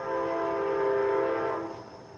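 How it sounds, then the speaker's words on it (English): An Amtrak passenger train sounds a long, steady horn blast, loud and chord-like, holding for over a second before fading off. "That's probably the Amtrak coming through."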